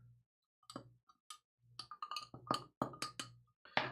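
Spoon clinking against a glass while stirring a P.O.G. soda cocktail, a series of bright, close chinks and rattles with short pauses between bursts, no voices.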